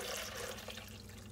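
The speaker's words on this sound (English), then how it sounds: "I'm putting the water in." Water pouring steadily into the reservoir of a home drip coffee maker, a continuous close splashing trickle with no talk over it.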